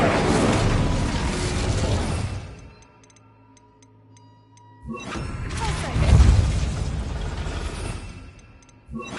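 The Incendio fire spell cast in Hogwarts Legacy inside a goblin mine, two loud roaring, crackling bursts of flame separated by a quiet ringing lull, close and dense, with no voices over them.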